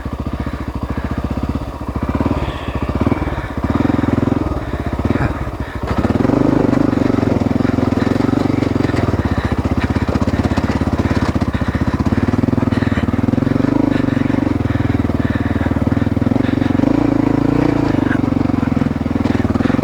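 A Honda XR600R dirt bike rides a trail, its single-cylinder engine chugging unevenly at first and then droning steadily at a loud, close, constant pitch, with faint talk now and then beneath it.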